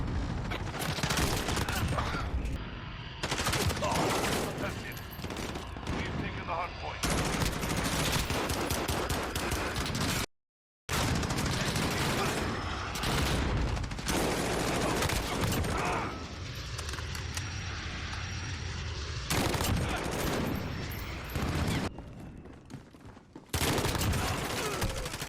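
An M4A1 assault rifle fires in video game multiplayer in rapid, dense automatic bursts with clanking mechanical sounds, loud and nearly continuous, broken by one brief silence partway through.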